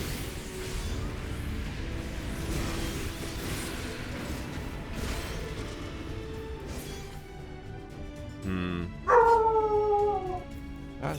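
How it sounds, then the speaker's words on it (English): A dog howls in a game setting, with rising then falling wavering tones near the end, over a steady noisy background of game sounds and music. "That's my dog."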